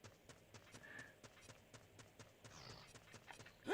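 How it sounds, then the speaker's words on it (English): Horse hooves clip-clop at a steady trot in the Zelda 64 video game, a run of regular, evenly spaced hoofbeats at moderate volume, ending in a louder burst. "the horse spawned"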